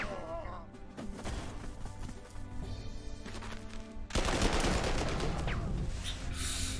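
Artillery and gunfire rumble in the WWII strategy game Corps 2, with dense booming and crackling volleys that grow louder and denser after about four seconds under a continuous battle din.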